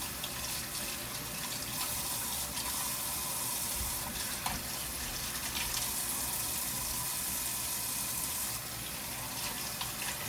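Steady rush of running tap water over gloved hands at a sink, a continuous wash lasting throughout, moderately close with no talking.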